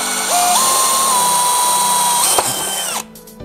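A Dewalt DCD996 cordless hammer drill whines loudly at close range, revving up, holding a steady high pitch for about two seconds with a brief clunk, then spinning down and stopping.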